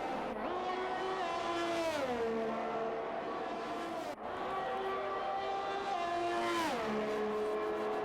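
A race car engine screams through a hot lap in a racing game at the Netherlands circuit, rising and falling in pitch through two gear-change and corner cycles, steady and continuous.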